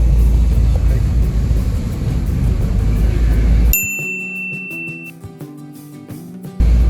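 A car is driven in Belém, Pará: steady loud road and engine rumble fills the first half, then a cabin chime dings a few times over a quieter interior before the road noise swells again.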